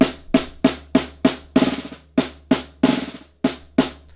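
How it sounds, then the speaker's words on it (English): A snare drum with its snares fastened to the bottom head is struck in a loose call-like pattern: bright, buzzy cracks with rattling tails, a few quick flams and rolls, close and loud with no voices. "Then when I fasten the snares to the bottom"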